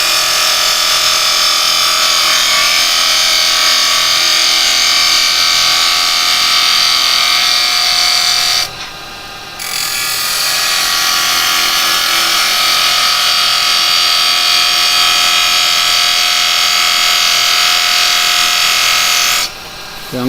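A woodturning lathe tool shaves a taper into spinning wood, a steady bright hissing scrape that runs continuously with two brief pauses where the tool lifts off, close and loud.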